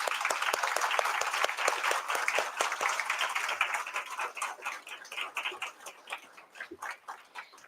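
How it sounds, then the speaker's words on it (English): Audience at a student awards ceremony applauding faculty, dense sustained clapping from a large crowd that gradually thins into scattered claps. "A round of applause."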